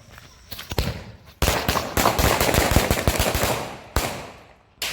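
Diwali firecrackers burst in fast crackling volleys, loud and close, with sharp rapid pops running for several seconds and a few separate bangs at the start and end.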